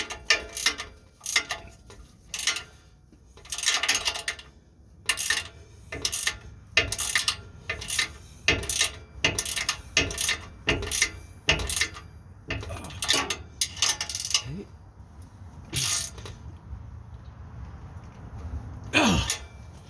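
A ratchet wrench clicks in short repeated bursts at close range while working on the exhaust of a Nissan Frontier, with brief pauses between strokes.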